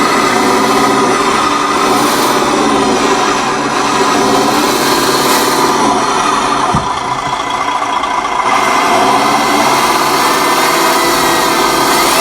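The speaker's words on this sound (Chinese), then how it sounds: "油门操作的时候，轮胎马达就会带动。" The electric tire motor of a radio-controlled Land Rover Defender 90 Camel Trophy scale model runs steadily under throttle, a close, constant high-pitched whine with faint mechanical rattling and no pauses.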